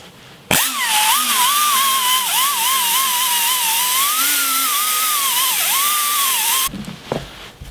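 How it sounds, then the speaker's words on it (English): A high-pitched angle die grinder whines continuously at full speed for several seconds, its pitch wavering slightly under load before it cuts off abruptly. "angle die grinder. Let's see how it works."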